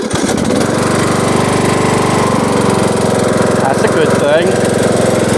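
A Bolens riding lawn mower engine with a fuel problem runs loud and close, chugging in a steady rapid rhythm throughout, while someone says a few words over it.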